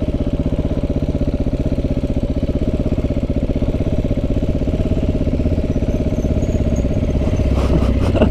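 A small motor engine held at a crawl while the rider tries to go as slowly as possible without tipping over, a steady close, loud low rumble with fast regular firing pulses and no voices.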